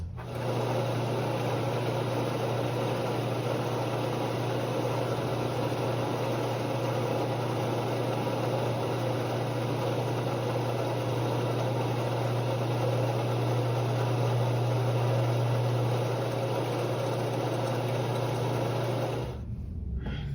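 A vintage mini lathe facing a plastic mallet face runs with a steady, loud motor hum and faint cutting noise for about nineteen seconds, then cuts out abruptly near the end.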